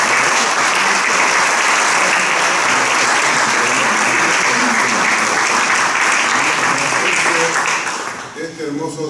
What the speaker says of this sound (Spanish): Quiero brindar un aplauso para todos ellos.